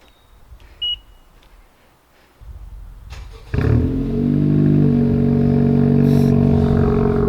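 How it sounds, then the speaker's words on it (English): Automatic Honda Civic cold start: a few quiet clicks and a short beep, a cranking whir, then the engine catches with a loud flare and settles into a steady, throaty idle close by. "So with it being a automatic, let's have a little cold start."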